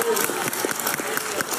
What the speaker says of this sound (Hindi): सुदेश पाजी के लिए एक बार जोरदार तालियां।